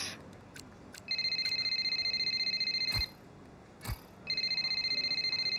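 A phone rings in the F1 25 racing game with two long electronic trilling rings separated by a pause, clear and steady over quiet background with a couple of faint clicks.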